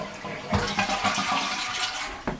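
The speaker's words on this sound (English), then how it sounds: "do we have a secure flush?" A toilet flushes close by with a loud, steady rush and gurgle of water lasting a couple of seconds, with no talking.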